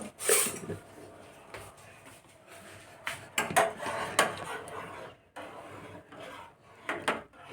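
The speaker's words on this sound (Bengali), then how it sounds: "এবার একটা চামচ নিয়ে ওটাকে মিক্সড করে দাও জলের মধ্যে" A spoon clinks and scrapes against a metal pot while stirring tea leaves into water on a stove, irregular close taps and rubbing strokes with small pauses.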